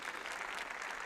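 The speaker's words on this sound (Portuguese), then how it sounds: "Essa salva de palmas é para a saudação final do Santo Padre" Applause from the faithful for the Pope's final greeting at a General Audience in the San Damaso Courtyard of the Apostolic Palace, a steady, dense wash of clapping held at an even level throughout.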